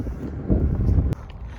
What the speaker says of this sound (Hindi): हवा बहुत ज़्यादा तेज़ है